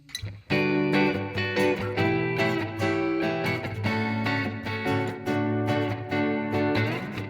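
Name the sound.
strummed guitar chorus part, played by hand without pick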